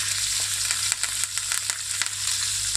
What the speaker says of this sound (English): So after about 5 minutes, we flip it on the other side, just letting it cook.